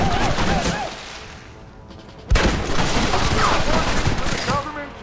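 Gunshots in the Western game Red Dead Redemption ring out in sharp bursts, with a loud crack midway, over game voices talking throughout.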